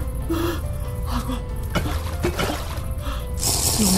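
Water in a Resident Evil video game, a continuous close running and trickling like a tap filling a basin, with a few soft splashes and a brighter rush near the end, no speech.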